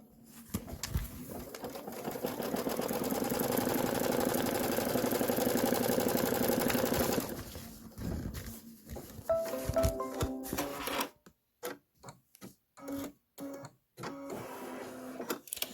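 An embroidery machine doing black stitching hums and rattles continuously for several seconds, then slows into uneven bursts and short mechanical stops.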